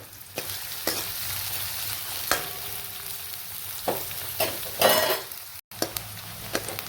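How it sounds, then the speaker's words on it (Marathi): Chopped onion sautés in oil in a pan for a spicy mutton dish, a continuous close sizzle broken by repeated stirring scrapes and light metallic clinks of a spoon against the pan. "कांदा थोडासा परतून घ्यायचा"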